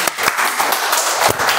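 A crowd claps for a table topics speaker at a Toastmasters meeting, a brief, dense burst of applause with a few sharper individual claps standing out.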